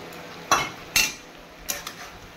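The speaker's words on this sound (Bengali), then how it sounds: "এভাবে ভালো করে এবার নেড়ে নেব" Small fried shrimp being stirred into a banana flower curry, a metal spoon clinking against the pan in a few sharp scrapes and taps, close and fairly quiet, with no talking.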